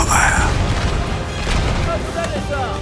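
British troops fire a musket volley in a War of 1812 battle game, a loud, dense crackle of shots and booming blasts rolling together, with faint shouting in the background.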